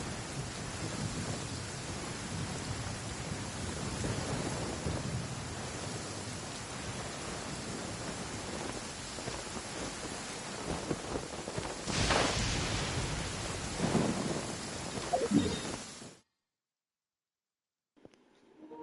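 Rain falls steadily in Genshin Impact, a continuous hiss with a loud rolling thunderclap near the middle, then the sound cuts out abruptly before a brief return at the end.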